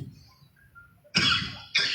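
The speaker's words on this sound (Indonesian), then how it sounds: "Saya agak batuk ini, gara-gara salah minum." Two harsh coughs, the first longer and the second a short follow-up, close to the microphone after a moment of quiet.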